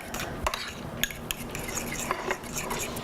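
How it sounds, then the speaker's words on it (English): Ancho chili paste mixture stirred in a bowl for shrimp tacos, with a utensil scraping and clinking against the bowl in a few sharp taps over a steady soft scraping, close and moderately loud. "I'm just going to mix it up"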